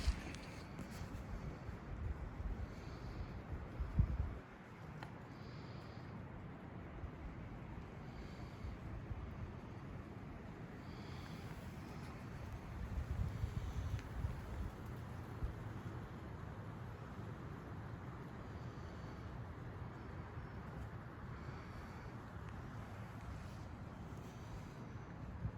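Wind blowing outdoors at a deer camp, a faint, steady broadband rush with slight gusts and a brief thump early on, no voices.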